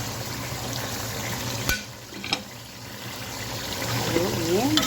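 Ginger and garlic paste for chicken biryani frying in a pan, giving a steady close sizzle with a couple of sharp clacks from stirring.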